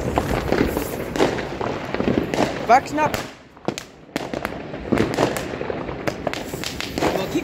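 Firecrackers burst again and again on New Year's Eve, loud close pops and a whistling rocket, then a short lull before more bangs, with people talking and calling out throughout.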